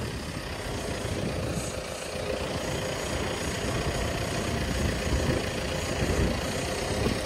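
An MTZ tractor engine idling steadily, a continuous low rumble throughout with no breaks, fairly close, while pea seed is loaded into big bags.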